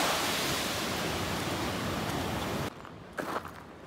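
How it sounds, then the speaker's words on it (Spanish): Early-morning ocean waves wash onto the beach at La Pedrera, Uruguay, in a steady, loud broadband roar, cutting off abruptly near the end to quieter background with a brief rustle. "El sonido y las olas tempranito no tiene precio."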